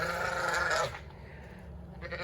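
Lambs in a creep area pen on a farm: one short, loud bleat up close, followed by quieter pen ambience and a faint stir of movement.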